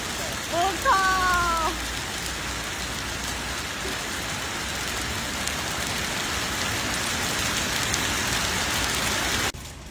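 Heavy rain pours down during a violent storm in Wuhan, China, a steady, dense hiss of falling water that fills the whole stretch; a brief tonal sound rises near the start and the downpour cuts off abruptly just before the end.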